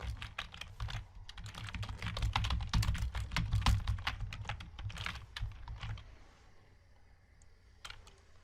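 Quick, steady clatter of computer keyboard keys as someone types Python code, dense near keystrokes for about six seconds, then a few scattered clicks trailing off into quiet.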